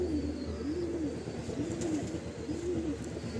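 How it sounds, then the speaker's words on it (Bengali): Loft pigeons cooing, four slow, evenly spaced soft coos over a low background hum, fairly close. "এই হলো মাদি পায়রা।"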